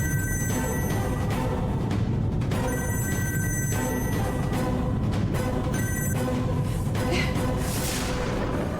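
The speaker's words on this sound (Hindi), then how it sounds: "फोन भी नहीं उठा रहे हैं।" A telephone rings on and off without being answered, its repeated bell bursts sitting over a dense background of music and room noise, fairly loud and steady throughout.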